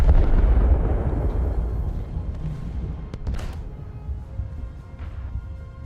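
Heavy booming naval gunfire in a video game, aimed at a Mogami cruiser, rumbles continuously, with a sharp crack a little past the midpoint and distant blasts layered over a low, roaring background.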